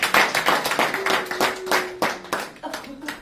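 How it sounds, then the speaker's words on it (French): A church congregation claps in a brisk, steady rhythm during a worship service, many hands striking together close by, with voices singing or calling along underneath. "Acclamons pour le Seigneur Jésus"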